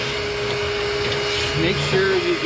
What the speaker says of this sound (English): the ash pot, the burn pot vacuumed out real well